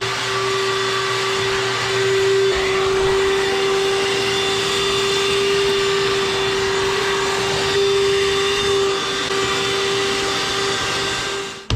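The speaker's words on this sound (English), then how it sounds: "Shop-Vac has come out with a 1 gallon Shop-Vac." A Shop-Vac 2021000 micro wet/dry vacuum, a 1-gallon, 1-horsepower compact model, runs continuously at close range. It gives a loud, steady motor whine with a constant pitched hum and airflow rush, and no one speaks.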